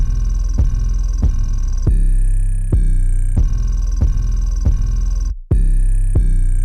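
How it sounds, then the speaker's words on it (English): Deep 808 bass notes from an FL Studio beat pulse steadily under a sustained synth melody, with a brief dropout near the end before the pattern resumes, loud and without talk. "I just went real simple on the 808s."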